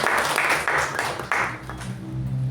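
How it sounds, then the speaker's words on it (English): Applause at a Toastmasters club meeting celebrating the club's awards, heard as a steady wash of clapping from a group that swells in pulses, with a low hum running underneath and no one speaking. "Let us give a huge round of applause to our club for attaining that."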